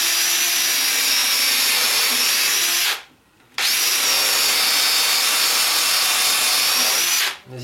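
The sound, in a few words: power drill driving screws into wood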